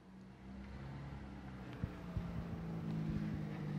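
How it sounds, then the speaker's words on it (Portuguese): A vehicle with a faulty exhaust accelerating nearby outdoors, a low rough engine drone with a few sharp exhaust pops toward the end, rising slightly in loudness. "tá com escapamento ruim aqui, ele ainda deu uma acelerada"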